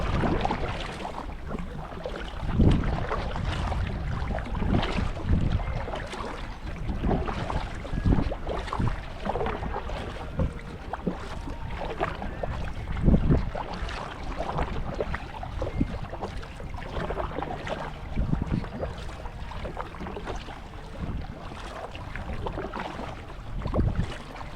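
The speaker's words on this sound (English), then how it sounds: "And you're going to hear the wind a lot more too." Wind gusts buffet a Primo kayak during a morning paddle through a channel, rough broadband rushing with repeated surges and paddle splashes, loud and close, with no talk.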